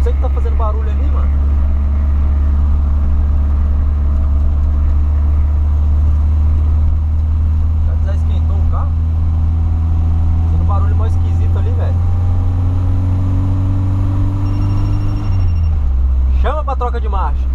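A 1985 VW Voyage with a slightly worn carburetor runs steadily, its engine droning low and close throughout and dipping near the end, while someone talks over it.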